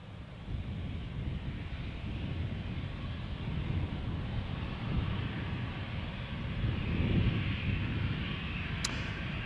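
A KLM Cityhopper airliner bound for Manchester at Amsterdam Schiphol Airport, heard as a steady, loud, broadband engine roar with wind noise that swells slightly toward the end.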